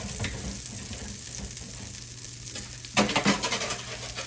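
Butter melting in a pan for bananas Foster gives a soft steady sizzle, then a burst of louder clinks and stirring scrapes near the end, close and without talking.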